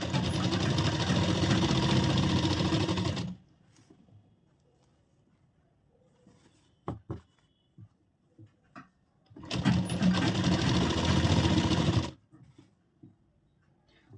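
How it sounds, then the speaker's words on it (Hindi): A sewing machine sews the side seam of a princess-cut deep-neck blouse in two loud, continuous runs, with quiet handling clicks and taps in the gap between them. "और पहले हम सीधे साइड सिलाई लगा रहे हैं"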